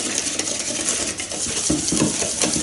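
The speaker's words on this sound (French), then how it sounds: "Là, donc je commence à mélanger" Apple fritter batter being mixed in a bowl, a steady wet stirring with utensil scrapes and light clinks against the bowl, close and continuous with no voices.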